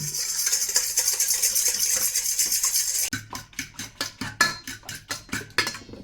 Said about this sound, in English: Then I'm going to mix them together, then keep going.